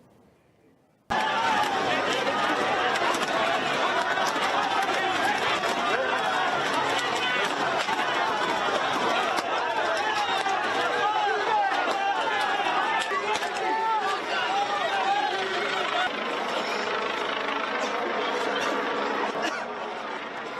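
A large crowd at an anti-G7 rally in Sicily, facing riot police, tear gas and smoke, gives a dense, continuous roar of shouting, chatter and scattered cries that stays loud throughout.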